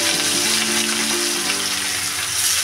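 Rohu fish pieces fry all at once in hot oil in a wok, throwing off a loud, steady, close-up sizzle and crackle that runs without pause.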